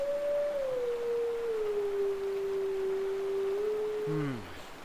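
A single long wolf howl in the video game The Legend of Zelda: Twilight Princess, a clear sustained tone that slowly dips in pitch, then breaks into a short falling tail at the end, heard alone.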